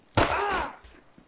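A single loud gunshot fired in GTA 5 during a park ranger patrol with the LSPDFR police mod, hitting sharply and then ringing out in a short decaying tail.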